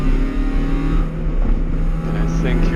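A race car at an MCSCC Sprint Series race drives past on the track with a sustained, droning engine note that swells and eases from a steady distance, while a voice murmurs underneath.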